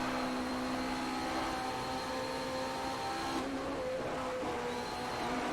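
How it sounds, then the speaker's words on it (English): A 1985 Indy car's turbo engine in a racing video game gives a steady whining, vacuum-like drone with a tonal hum. The pitch shifts noticeably partway through, with no voices. "Listen to the boost."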